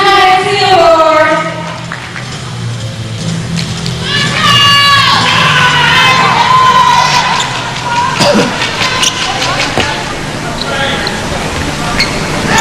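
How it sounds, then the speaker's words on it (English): Loud crowd cheering and shouting for Team Singapore at a SEA Games 2017 netball match against Brunei, sustained roar with children's shrieks and an announcer speaking over it. "One last cheer for Team Singapore"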